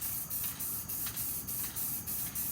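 A light dust coat of spray paint hisses steadily onto a deck at a barn, broken into a rapid series of short bursts with brief gaps, close and fairly quiet.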